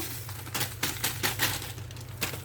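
Coarse salt from a bag pours onto apple-variety olives being pickled at home, a dense granular hiss with repeated sharp patters as grains strike, close and steady over a low constant hum.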